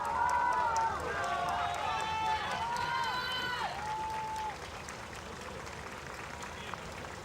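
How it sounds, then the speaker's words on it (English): Crowds cheering outside for Pope Francis on his arrival in Strasbourg, a steady roar of voices and shouts with a few whistles, loud through the first half and easing to a softer crowd murmur. "crowds were waiting for him outside,"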